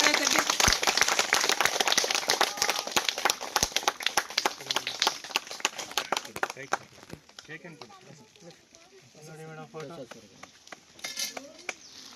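An audience claps at a community event, with dense, sharp applause for several seconds that breaks into scattered claps while people talk nearby.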